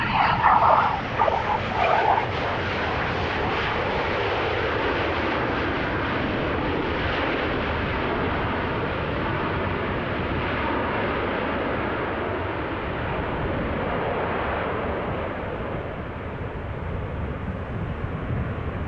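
Jet airliner taking off from Amsterdam Schiphol Airport after a storm, a steady broad engine roar that holds loud and continuous throughout, slowly easing toward the end.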